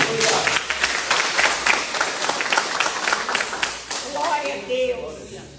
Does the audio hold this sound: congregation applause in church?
yes